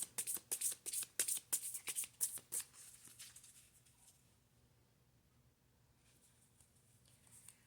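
A small Lenormand card deck is shuffled by hand in a quick burst of close, crisp riffling flicks for about three seconds, followed by near silence.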